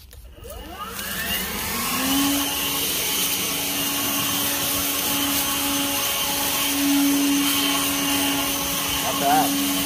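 A Litheli 40V brushless battery leaf blower spools up and runs at its normal, non-turbo setting with a steady, even whine. It stays loud and close for the whole clip after a brief rise at the start.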